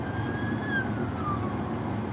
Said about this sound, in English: somewhere out there, there's an ambulance.